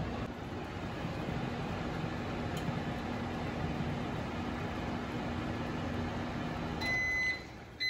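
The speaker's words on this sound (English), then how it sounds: "This cup will get kind of hot after 2 minutes of the microwave." A microwave oven heating a cup of water hums steadily and close for several seconds, then ends with a few short electronic beeps.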